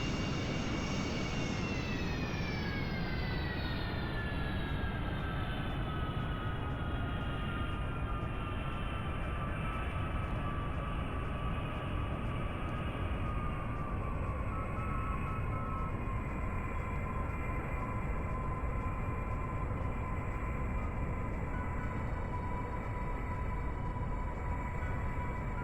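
An aircraft in Kerbal Space Program coming in to land, a loud constant engine roar with a high whine that slowly falls in pitch, steady and unbroken throughout with no talk.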